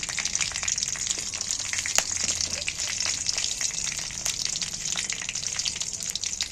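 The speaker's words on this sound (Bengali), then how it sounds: "2টো তেজপাতা, 2টো শুকনো লঙ্কা, 2টো ডালচিনি, 2টো এলাচ দিয়ে ফাটিয়ে দিন।" Bay leaves, dried red chillies, cinnamon and cardamom crackling in a few spoons of hot oil, a steady close sizzle with scattered sharp pops and spits throughout.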